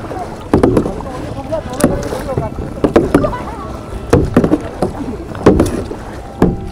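Kayak paddles dipping and pulling through sea water off a beach at Tarkarli–Devbagh, Malvan, with one paddle stroking in reverse at the front; splashes recur every second or so, close and fairly loud, with wind noise and voices talking between strokes.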